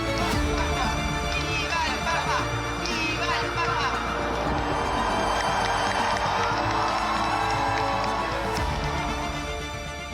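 A large crowd in St. Peter's Square awaiting the new pope, a loud, continuous roar of cheering and shouting that fills the whole stretch without a break, with voices rising and falling throughout.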